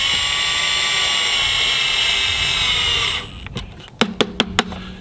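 A power drill drives pocket hole screws into a 2x10 board in a steady, loud whir lasting about three seconds, followed by a few sharp ratcheting clicks close by.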